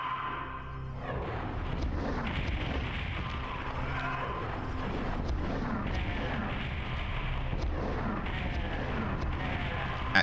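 Rocket launcher fire in PSX Doom, heavy booming blasts and explosions rolling through a wide open sewer area, repeated and fairly steady against a dense rumbling game soundscape.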